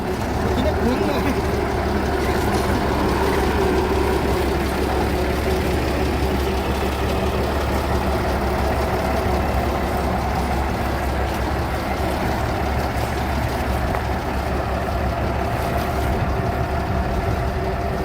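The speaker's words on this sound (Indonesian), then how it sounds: "Lokomotif diesel Hokuriku nomor 6." Hokuriku number 6 diesel locomotive running steadily on a flooded railway line, a continuous loud low engine rumble that holds at an even level throughout, with people talking faintly in the background.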